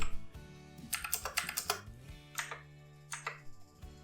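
Keys clatter on a computer keyboard as a password is typed into an online store sign-up form, several quick bursts of clicks with pauses between them, close and fairly quiet over a low hum.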